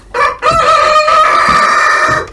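A rooster crows loudly and close by in a backyard chicken coop, a long sustained call after a short opening note, with hens clucking faintly around it.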